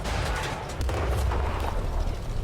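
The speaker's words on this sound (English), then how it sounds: "I'm pretty sure that was a blind shot from the artillery." Artillery shell impact in World of Tanks, heard as a heavy, sustained low rumble and boom that fills the whole stretch at close, loud range with no talking.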